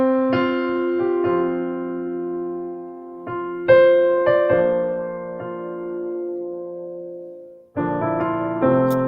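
An orchestral film score track from Meet Joe Black plays, sustained chords and piano-like notes swelling and fading in phrases, with no talking over it.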